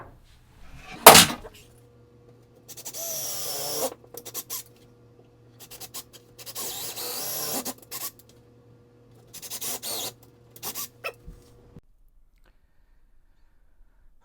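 A power drill bores screw holes for a closet shelf in a cramped room, with a sharp knock first and then several separate rasping bursts over a steady motor hum, close and moderately loud, with no talking.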